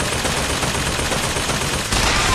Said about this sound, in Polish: I jeszcze jeden strzał.